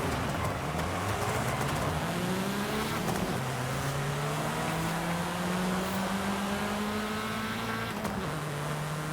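Reliant car engine in Forza Horizon 5 accelerates hard down a festival drag strip, its pitch climbing through repeated gear shifts. The engine sounds loud and continuous, with a brief drop near the end.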